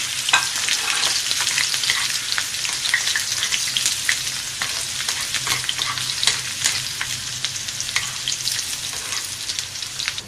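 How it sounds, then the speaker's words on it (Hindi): Chopped onion is dropped into a hot oil tempering with curry leaves, producing a loud, dense, continuous crackling sizzle close up that stays even for the whole stretch, with no voices. "अब हम इसमें प्याज डाल रहे हैं।"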